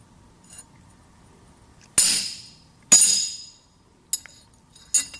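Sharp metallic taps ring out in a quiet space, two loud strikes followed by two lighter ones, as a punch is hammered to mark metal for carbide studs on a horseshoe.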